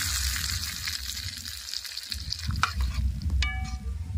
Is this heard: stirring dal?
yes